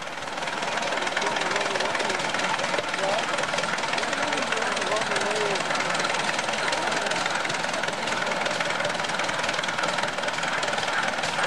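A 1917 Aultman Taylor 30-60 tractor engine runs steadily and loudly throughout, a constant rumbling drone with a rattling mechanical texture.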